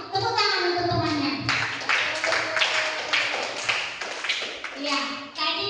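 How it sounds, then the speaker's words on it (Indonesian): Classroom children clap together for a classmate, a burst of quick uneven hand claps mixed with kids' voices and a teacher speaking over them. "Tepuk tangan untuk temannya"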